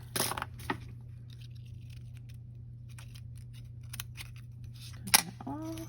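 Scissors snip loose thread from a handmade double ribbon bow right after hot gluing, a few short close crisp cuts, with a sharp click near the end over a steady low hum.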